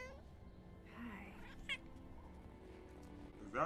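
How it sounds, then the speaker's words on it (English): A Loth cat, an alien feline creature from the Star Wars series Ahsoka, gives a couple of short, close meowing cries over a low murmuring background. "Is that a Loth Cat?"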